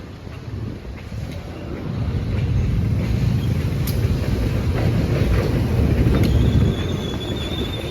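Locomotive shunting at a railway station, with a steady loud rumble of rolling wheels and rail noise, faint clicks over the track and a thin wheel squeal rising near the end.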